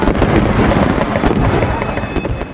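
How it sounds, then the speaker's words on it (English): Continuous loud crackling and popping from fireworks going off, a dense rapid barrage of bursts that fades only slightly by the end. "a firework is a small pyrotechnic missile that explodes in a very specific way, creating loud explosions"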